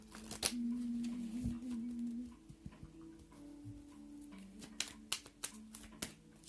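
Tarot cards are shuffled by hand in a quiet room, with soft irregular riffles and taps, some faint and some sharper. A faint voice murmurs underneath at times.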